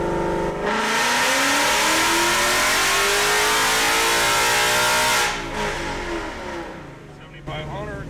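A Coyote V8 in an S550 Mustang on a hub dyno, revving hard in a loud, sustained wide-open-throttle roar for about five seconds before falling back to a lower idle-like rumble with a brief blip near the end.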